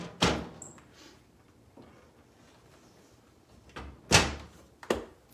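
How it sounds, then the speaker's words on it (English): A wooden hutch cabinet door swings shut with a sharp knock, followed by two more firm thuds of the door closing and settling, close by in a quiet room. "So then when I shut the door,"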